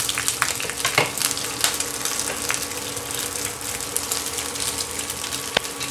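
Coconut pieces sizzle with mustard seeds in hot oil for a Kerala-style breakfast dish, a steady close frying crackle with occasional sharp pops and spatters throughout.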